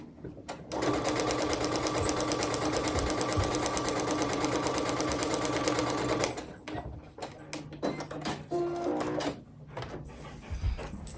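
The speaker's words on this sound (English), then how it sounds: "we're going to sew along the line that says number 4" A sewing machine stitches a quilted pie safe table runner in a steady, fast continuous run for about six seconds, then stops, leaving quieter handling sounds of fabric and the machine afterward.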